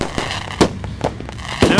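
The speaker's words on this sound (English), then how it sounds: "Here's all the fireworks for your birthday, because you are special" Birthday fireworks going off outdoors, loud sharp bangs and crackling pops scattered irregularly over a continuous rumbling background, close and forceful.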